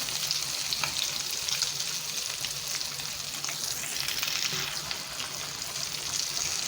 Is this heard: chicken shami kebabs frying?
yes